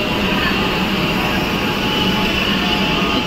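A metro train at a station makes a loud, continuous rumbling roar that fills the space evenly throughout, with a faint wash of ambient crowd noise beneath.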